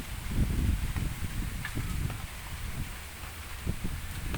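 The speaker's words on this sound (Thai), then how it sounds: "วันนี้ก็มีลมแรงด้วยแหละ" Gusty wind buffets the microphone with low rumbling bursts and rustling, steady and fairly loud throughout, with no voices.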